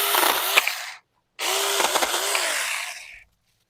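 A Saker Mini electric chainsaw cuts through a branch while limbing, with two close, loud buzzing bursts, the first about a second long and the second nearly two seconds, separated by a brief silence.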